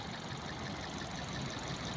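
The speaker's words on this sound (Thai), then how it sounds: "เสียงเงียบครับเนี่ย ทำงานปกตินะครับ เครื่องยนต์นิ่งครับ" A 2010 Toyota Altis 1.6 CNG car engine idles with a steady, low hum, smooth and constant throughout with no revving or voices.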